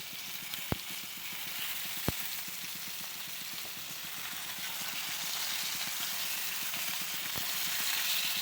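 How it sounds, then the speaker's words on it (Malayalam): Fish fries in oil with a steady, hissing sizzle, fairly soft and even throughout, with a few sharp clicks at intervals. "ഇനി നമുക്ക് മീൻ വറുത്തിടാം"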